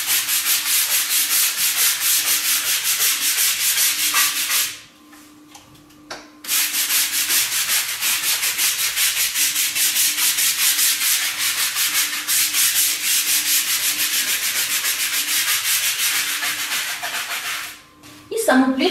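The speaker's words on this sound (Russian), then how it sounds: "Сначала чищу швы, их прочищаю при помощи щетки." Stiff brush scrubbing tile grout seams with a cleaning solution, loud rapid rhythmic rasping strokes close by, with brief pauses around the middle and near the end.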